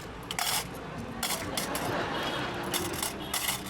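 Coins clatter and jingle in several bright bursts over about four seconds as a pile of loose change is poured or dropped, close and fairly loud, with no clear talking.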